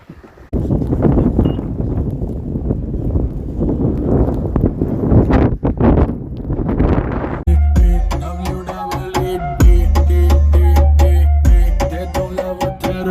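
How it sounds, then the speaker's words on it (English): Strong wind roars and buffets the microphone during a winter snow storm, loud and gusty for several seconds before music takes over. "It's winter storm out here. Super cold, super windy."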